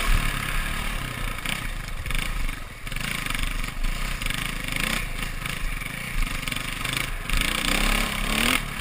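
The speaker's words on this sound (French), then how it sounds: "celle-ci qui sont des motos d'enduro-cross, avec des motos qui vont un petit peu avoir moins de puissance, mais plus de manœuvrabilité dans les virages serrés" Enduro-cross motorcycles ride at a steady drone, engines rising and falling as they rev through tight turns and obstacles, loud and continuous, with no speech.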